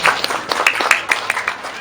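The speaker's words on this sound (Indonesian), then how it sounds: "Tepuk tangan ya" An audience at a local speech gathering gives a brief burst of applause, a scattered patter of claps from a modest crowd close by.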